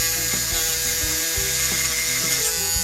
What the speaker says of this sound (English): So I can go in and sand this sort of internal area that would be hard to reach